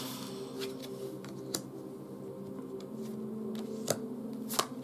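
Tarot cards are shuffled and drawn close by, quiet papery riffles and soft flicks with a few sharp snaps scattered across a faint background hum.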